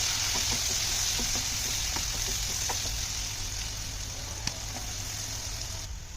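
Chopped onions fry in a pan already holding potatoes for a quick chicken dish, giving a steady, fairly loud sizzle with scattered crackles and pops throughout and no voices.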